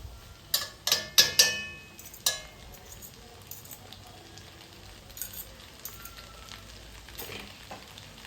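Egg noodles get mixed in a hot pan with scrambled eggs, pepper and other stir-fry ingredients. Oil sizzles softly and steadily while a utensil clacks against the pan in several sharp bursts, with no talking.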